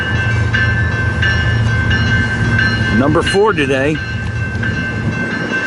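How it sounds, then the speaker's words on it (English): A westbound BNSF coal drag rolls past on the transcontinental main line at Lincoln, Nebraska, with a steady low rumble of cars and a brief horn-like wavering tone midway, while someone talks over it. "Here comes westbound coal drag,"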